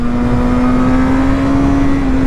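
A motorcycle engine drones loud and close during a ride on winding roads, holding a steady, unbroken hum at a constant pitch with rushing wind noise and no talking.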